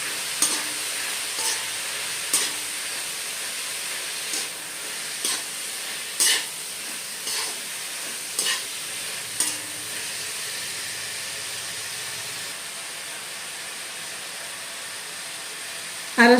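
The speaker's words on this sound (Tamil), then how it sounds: "எல்லாம் போட்டு இதோட சேர்த்து கிண்டிக்கணும்." Tomatoes and green chillies fry in a pan under a steady sizzle, while a spoon scrapes and stirs in about nine regular strokes before the frying settles into an even hiss.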